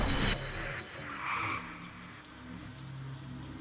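Steady rain patters over wet stone in a video game level, a soft even hiss with a brief louder burst at the start, low in level and without voices.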